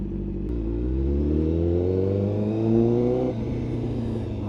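A motorcycle engine starts and revs, rising in pitch through a strong close rev and then settling back to a steady idle, loud and with no talking over it.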